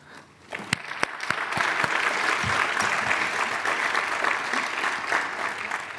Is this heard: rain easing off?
no